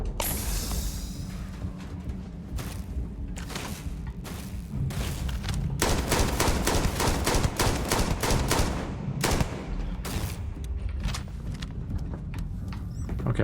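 Weapon fire in the video game Starfield: dense rapid bursts of shots, loud and close, repeating in fast volleys with brief pauses between.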